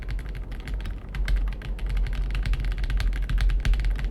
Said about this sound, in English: The cipher turns into like a typewriter. We hear the clicking sound each and every single time.